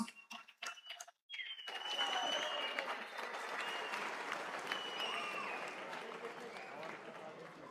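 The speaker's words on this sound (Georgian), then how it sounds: "ორივე მებრძოლს აპლოდისმენტები ძალიან მაგარი ბრძოლისთვის" After a combat-sports bout, a crowd gives a sustained round of applause for both fighters. A few sharp knocks come first, then steady clapping with faint voices mixed in.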